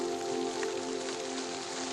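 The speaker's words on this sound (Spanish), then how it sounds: "La ventisca sopla. La lluvia arrecia." Heavy rain during a blizzard pours down as a dense, constant hiss, loud and unbroken, with a low steady hum beneath and no voices.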